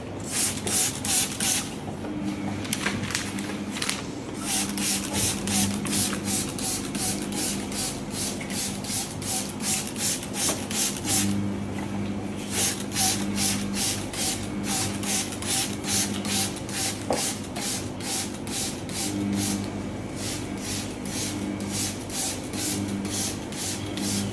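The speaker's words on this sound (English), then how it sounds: "Now before I bake, I always spray a lot of water." Water is sprayed over sourdough loaves before baking in rapid repeated bursts, a close hissing spritz pulsing in quick regular rhythm with short pauses between runs of squeezes.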